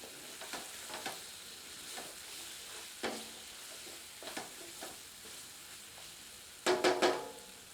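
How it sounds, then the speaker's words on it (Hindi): Gurda kapoora masala sautéing on a medium flame, with soft intermittent stirring scrapes and a faint sizzle, then a brief louder clatter near the end; no talk. "इसे मिलाकर 3 से 4 मिनट मध्यम आंच पर भूनते हैं"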